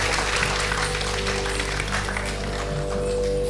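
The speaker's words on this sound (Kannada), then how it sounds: "ಜೋರಾಗಿ ಚಪ್ಪಾಳೆ ತಟ್ಟಿ ಆ ಸಂಗೀತದವರಿಗೆ." An audience claps for musicians at a stage performance, a dense, steady wash of applause lasting throughout.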